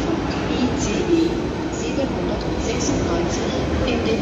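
A steady low rumble of an ICE train rolling into Berlin Hauptbahnhof fills the whole stretch, with faint platform chatter and echoes over it.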